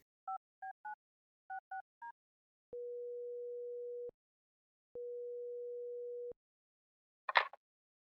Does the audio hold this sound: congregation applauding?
no